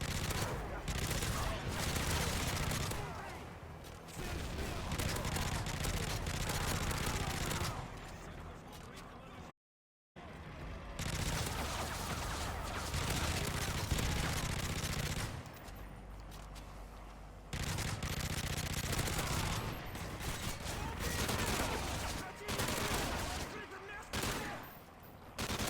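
Dense bursts of automatic gunfire from light machine guns and assault rifles in the video game MW3 survival mode, rapid and sustained with brief pauses, fairly quiet overall, and a voice talking over parts of it.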